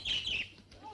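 Pet birds chirp and tweet in a quick cluster of bright calls while being fed indoors, fading after a moment with faint room sound beneath.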